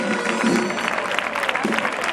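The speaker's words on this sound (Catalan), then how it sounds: "un fort aplaudiment per a ella." Steady applause from a crowd, dense continuous clapping filling the space without pause.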